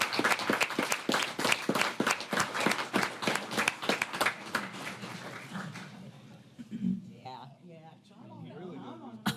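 Audience applause fills a city council meeting, a burst of rapid clapping from a crowd that fades out after several seconds as voices start talking in the room.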